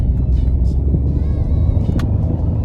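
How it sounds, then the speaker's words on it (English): A diesel truck with a turbo fault spools up steadily while struggling for power, a continuous low engine rumble with a faint rising whine above it, close and loud throughout. "So the truck's spooling, but it's not really going anywhere"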